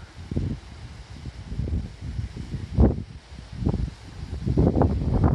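Gusty wind buffeting the microphone in uneven low rumbling bursts, rising and falling, with a stronger rush near the end; no speech.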